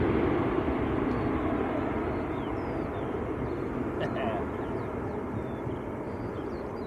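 An airliner at Manchester Airport, louder than an A320neo, gives a broad, sustained roar that slowly fades, with faint bird chirps over it.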